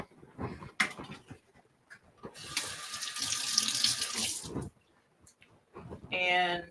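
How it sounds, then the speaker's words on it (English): Kitchen tap water runs into a sink while hands are washed between steps of making a hot crab dip, a steady broadband rush lasting about two seconds, bracketed by brief speech before and after. "I'm going to wash my hands off real fast."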